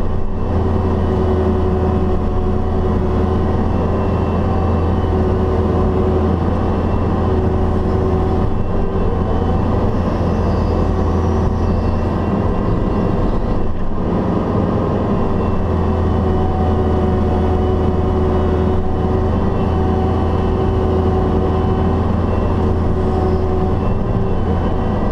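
An excavator digs a foundation with a steady, loud diesel drone and a constant whine that hold throughout, with occasional brief shifts in load but no talk.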